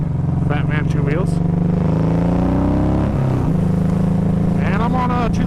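A 2007 Honda VTX 1800 motorcycle engine drones loudly and steadily while riding, with pitch dipping and rising as the throttle shifts, and someone talks over the engine throughout.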